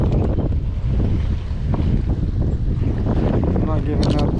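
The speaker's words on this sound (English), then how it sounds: "Brutal wind" Strong, gusty wind buffets a kayak on a lake in early spring, a loud, constant roar of microphone wind noise with water lapping, and a voice briefly under it.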